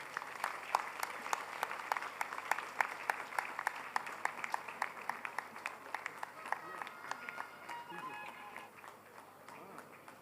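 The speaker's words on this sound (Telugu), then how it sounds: "గట్టిగా చప్పట్లు కొట్టండి." An audience at an award ceremony for Guru Sanmanam and Sanskriti Puraskarams bursts into sustained applause, many hands clapping in a dense, steady patter that fades slightly toward the end.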